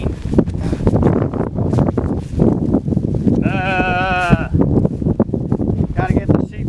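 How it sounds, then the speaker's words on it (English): Sheep on a grazing ranch pasture bleat once clearly and loudly mid-clip, with a fainter second bleat near the end, while a person talks over wind and shuffling outdoors. "Gotta get the sheep over here."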